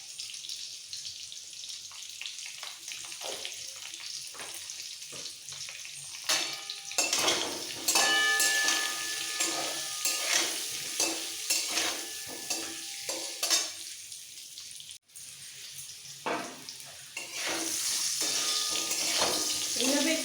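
Potatoes fry in hot oil with a crackling sizzle that grows louder midway, and repeated scraping stirs and utensil knocks come in bursts.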